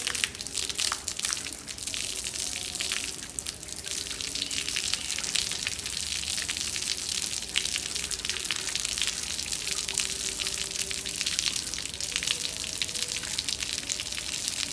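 Water sprays steadily from a hose pipe over a money plant being washed, a continuous loud hiss and splatter that runs without pause and without any talking.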